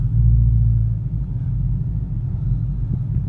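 A turbocharged Ford Mustang pulls out of a gas station in first gear, its low engine rumble steady and close from inside the car.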